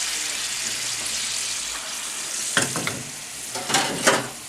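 Base gravy heats in a pan toward a boil for chicken tikka masala, a constant hiss of cooking followed by a few louder bursts of bubbling and spattering near the end.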